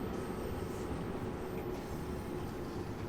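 London Underground Bakerloo Line train in Train Sim World 2 slowing into a station, a steady rumbling rail drone with a faint high whine, continuous and even throughout.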